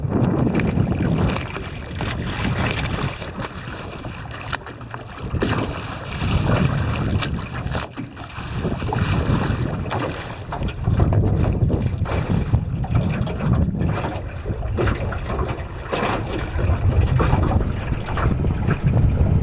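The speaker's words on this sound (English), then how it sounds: "We're sailing in the wind a little bit now. We've got a decent breeze. The sail's full." Small aluminium tinny converted to sail, moving under a full sail in a decent breeze, with steady loud wind buffeting and water wash around the hull throughout.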